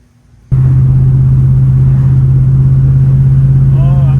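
A 1965 Chevy Nova wagon fitted with a new Holley carburetor fires up after a moment of quiet and pulls away, a loud, steady engine rumble with a firm low hum carrying to the end.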